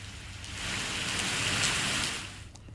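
Heavy rain pours down in a dense, steady hiss, swelling slightly in the middle and heard alone without voices.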